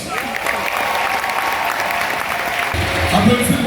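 Audience at a Rise Africa entrepreneurship conference in Cameroon applauding a speaker's arrival, a brief steady burst of clapping that carries on throughout.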